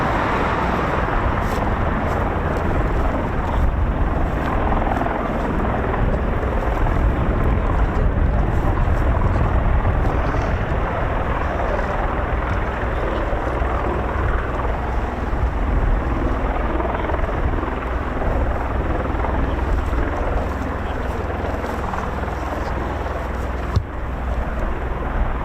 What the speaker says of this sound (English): So we've got the CV-22 Osprey running.